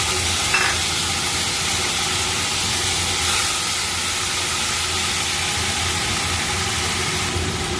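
Chopped tomato tipped into a hot cumin tempering for vegetable dal gives a steady, loud, broadband sizzle that holds evenly throughout, with no talking over it.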